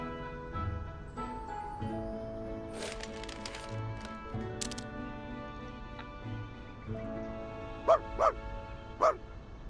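A puppy in the video game Reverse: 1999 gives a few short, bright barks near the end, standing out over a soft, steady musical background.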